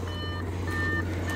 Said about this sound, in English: I'll hop in now so it stops beeping at me